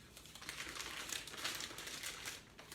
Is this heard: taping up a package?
yes